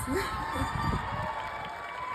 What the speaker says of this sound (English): This is when you give yourselves a round of applause.